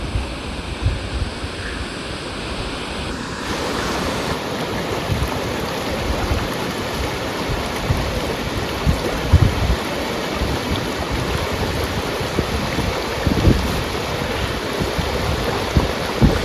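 A waterfall pours from the hills into a river, a constant loud broadband rush of falling water, steady and enveloping with no voices.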